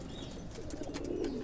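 A Yarkani pigeon gives a soft, low cooing call up close, a brief burst of throaty coos with faint background noise.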